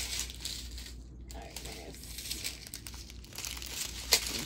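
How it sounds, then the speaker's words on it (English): Crinkly plastic packaging handled during an unboxing, giving soft, close crackles and rustles that come and go at low level with no talk. "I actually enjoy the crinkly plastic"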